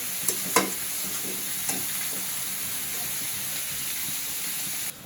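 Greens frying in a pan as shak bhaji, a close, constant sizzle with a few sharp spatula clinks and scrapes near the start, cutting off abruptly at the end.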